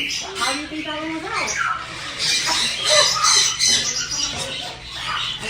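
A pet bird at a bird shop squawks in loud, harsh, repeated bursts, close by, with voices talking around it.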